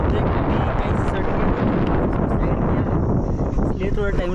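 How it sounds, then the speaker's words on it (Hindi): Strong outdoor wind roars and buffets the microphone continuously while a rider practises bicycle wheelies, a loud, dense rush with no letup. "अभी हवा बहुत ज़्यादा तेज चल रहा है"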